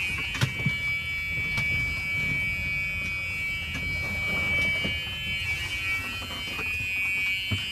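A Club Car Precedent golf cart's reverse warning buzzer beeps high and steady, continuously, over faint mechanical rumble and occasional knocks.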